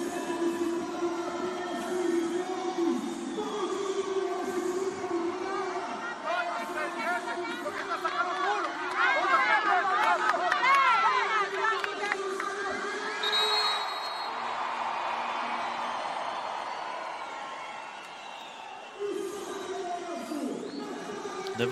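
A big arena crowd at a women's volleyball Olympic qualifier between Brazil and the Dominican Republic in Uberlândia gives off a steady, dense roar and chatter, with a commentator talking over it throughout.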